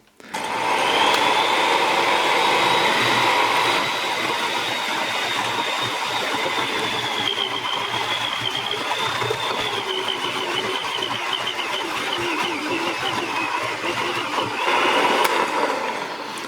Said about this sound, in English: this is all I'm going to do with the hand mixer right here